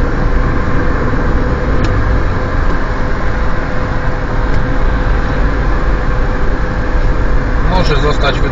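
A car drives through an intersection in Lublin, its engine and road noise forming a steady, close drone for the whole stretch, with a brief clatter near the end and a voice speaking over it.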